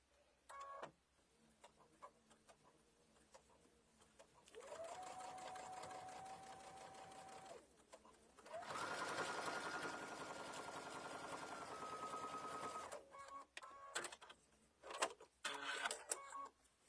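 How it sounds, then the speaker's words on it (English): A sewing machine runs two sustained bursts of back stitching on a fabric mug bag, with quiet handling clicks and rustles before, between and after. "I'm going to do a back stitch"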